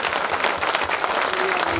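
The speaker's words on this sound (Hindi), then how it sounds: "तालियां बजा दीजिए।" Dense audience applause at a Hindi poetry gathering (kavi sammelan) claps steadily and loudly throughout, a crowd of many hands with a faint voice briefly heard beneath.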